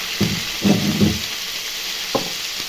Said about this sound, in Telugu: మంచిగా వేగుతున్నాయి కదా, వేగిపోయినాయి సగం.